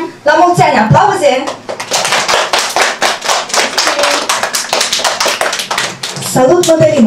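Close, loud clapping from a small group at a family birthday surprise, a run of sharp, quick, uneven claps lasting several seconds, with voices before and after.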